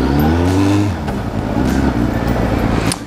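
Fiat Panda car engine revving up loudly close by, a strong rising drone that drops back and settles into a rougher steady running.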